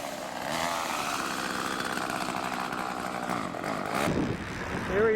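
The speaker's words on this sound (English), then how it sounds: "He's just warming up the saw." A chainsaw engine idles and revs as it warms up, a steady buzzing drone at moderate distance with uneven surges and a sharper burst near the end, no talking.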